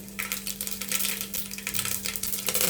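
Mustard and cumin seeds crackle and sizzle in hot oil for a sambar tempering, a steady close frying hiss with scattered tiny pops throughout, no talking.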